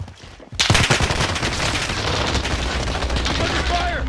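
Sustained automatic gunfire in Call of Duty: Warzone, a loud burst opening the stretch and then dense, continuous shooting that keeps going to the end without a break.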